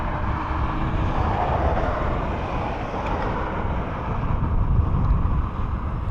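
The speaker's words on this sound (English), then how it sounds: "followed by a Ryanair F4 9614 coming in from Rome" A Ryanair jet arriving from Rome lands at Dublin Airport, a dull, continuous rumbling roar heard from a distance with wind buffeting the microphone and no talk.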